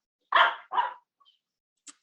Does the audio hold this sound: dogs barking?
yes